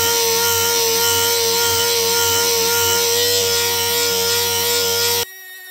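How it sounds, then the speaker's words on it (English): A SurfPrep sander fitted with a non-woven pad on a 5mm interface removes powder glaze from a cabinet finish, giving a loud, continuous, close whine with a steady hum before cutting off abruptly near the end. "I'm going to use our SurfPrep non-woven pad with the 5mm interface, and I'm going to take that powder glaze off."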